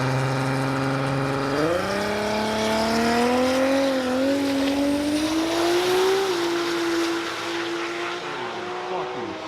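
A 1200-horsepower truck roars down a drag strip, its loud engine note climbing steadily in pitch through the gears as it accelerates close by, then fading slightly toward the end of the run.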